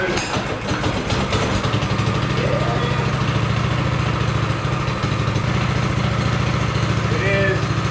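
A go kart's small engine cranks and catches, then settles into a steady, close idle with a fast mechanical thrum, while someone talks over it at times.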